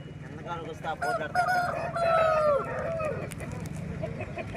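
A rooster, likely an aseel, calls at the Friday Gudur chicken market with a few drawn-out, strained crowing notes over a busy background of other fowl and faint market chatter.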